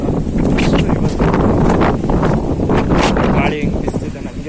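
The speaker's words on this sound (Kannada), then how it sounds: "ಗಾಳಿ ಹೆಂಗೆ ಬಿಸ್ತಿದೆ ನನಗೆ ನೋಡ್ಕೊಳ್ಬೇಕಾಗ್ತದೆ" Strong wind gusts buffet the microphone outdoors near home, a loud, uneven rumble with rustling that swells and fades over a few seconds.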